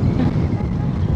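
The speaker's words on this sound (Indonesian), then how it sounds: "Anginnya gede, oi." Strong wind roaring over a microphone while riding a motorbike on a touring trip, a loud continuous low buffeting rush with no pauses.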